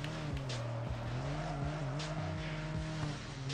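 A Buick accelerating in a mobile racing game, its engine tone climbing and dropping through repeated gear shifts with a steady, loud drone and a faint hint of tire noise.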